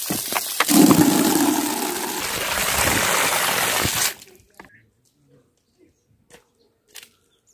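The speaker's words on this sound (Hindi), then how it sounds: "दो बाल्टी पानी लेके आता हूँ नल से, पानी खत्म हो रहा है।" Water from a village tap gushes steadily into buckets for about four seconds, a broad rushing splash that then cuts off, leaving near silence with a few faint knocks and movements.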